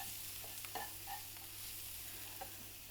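Garlic and ginger frying in a pan with caramelised onions, a quiet steady sizzle broken by a few soft stirring scrapes.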